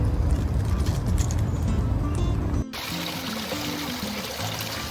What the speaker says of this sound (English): Running water in your garden invites all of the wildlife to come and take a nice long drink